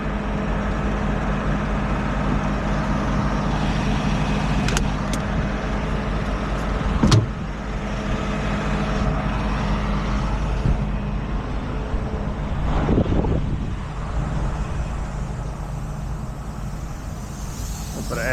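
Inside a tow truck cruising down the interstate: a constant deep road and engine rumble with tire noise fills the cab, steady throughout, with a brief clunk and a swell of passing traffic partway through.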